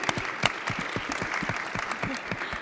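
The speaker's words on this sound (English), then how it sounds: "I would love to give a round of applause to our panelists." Audience applause for a panel of speakers at an impact-investing conference session, steady dense clapping with individual claps standing out, sustained through the whole stretch with no talk.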